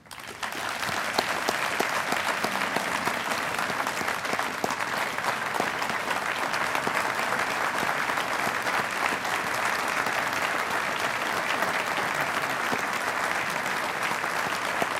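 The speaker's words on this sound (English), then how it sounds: "we give one final round of applause to the class of" A large banquet crowd at a sports hall of fame induction gives a steady, sustained round of applause for the honoree class, dense and even clapping throughout without a break.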